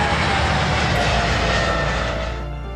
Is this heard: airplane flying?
yes